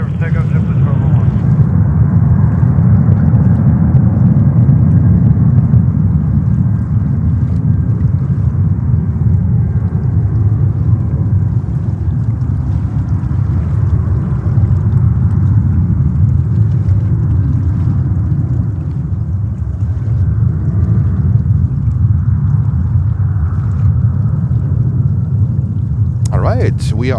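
A JetBlue airliner takes off from runway 31 left at JFK, sending out a loud, steady low roar that holds for the whole stretch with wind buffeting the microphone. A brief tower radio call cuts in at the very end.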